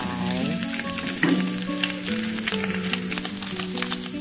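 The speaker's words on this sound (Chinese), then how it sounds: "放一点点油，然后把培根炒到有香味出来。" Bacon frying in a little oil in a wok or pan, a steady bright sizzle with stirring scrapes, heard under a tonal background melody.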